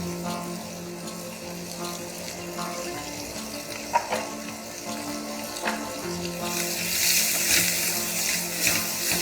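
Finely chopped onion with grated ginger and garlic frying in a pot for palak chole, a steady soft sizzle that grows brighter and hissier toward the end, with occasional light clinks.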